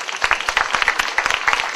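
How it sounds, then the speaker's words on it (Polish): Audience applause at an outdoor garden theatre competition final, a short burst of dense, close, irregular clapping with no voices. "Wielkie brawa"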